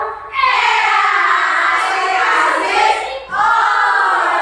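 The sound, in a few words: class clapping a rhythm pattern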